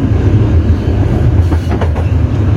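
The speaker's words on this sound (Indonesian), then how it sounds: "kita masuk stasiun Jatinegara pukul 6:12, lambat 3 menit" An Indonesian economy-class passenger train rumbles loudly into Jatinegara station, its wheels clacking steadily over the rails with a heavy, close-up roar and no talking.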